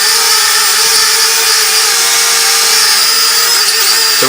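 A small Eachine E52 WiFi FPV selfie drone roars up from takeoff, its propellers producing a loud, steady high-pitched buzzing whine that fills the whole stretch with no talk.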